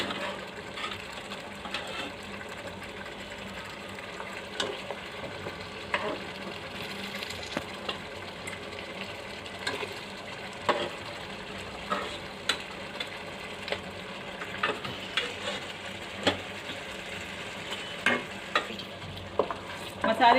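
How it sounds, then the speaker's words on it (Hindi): Boiled goat trotters fry in masala for a Lucknowi paaye curry, a low steady sizzle under repeated scraping and clanking of a spoon stirring the pot, with faint voices in the background. "मसाले के साथ पाए को पहले भून लेना है कुछ देर।"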